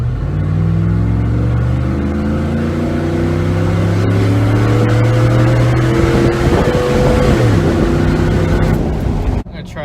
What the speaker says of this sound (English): I really like to hear the exhaust in this truck